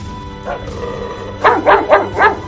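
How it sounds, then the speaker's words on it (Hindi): An angry dog barks in a quick volley of four loud, close barks after a softer opening yelp, standing alone against a faint steady hum. "गुस्से से भौंकते हुए कुत्ते ने कहा"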